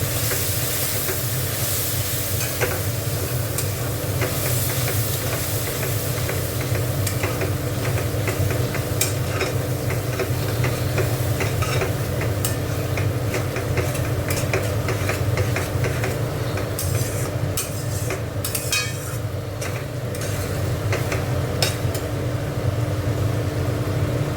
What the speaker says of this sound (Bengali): দিয়ে এবার মশলাটাকে ভালো করে একটু কষবো